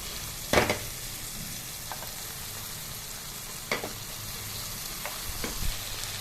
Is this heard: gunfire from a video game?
no